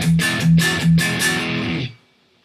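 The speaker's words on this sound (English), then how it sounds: "this is the sound of the bias plugin." Electric guitar played through the BIAS Desktop amp plugin, a few strummed chords with a driven amp tone in a steady rhythm, then cut off into silence.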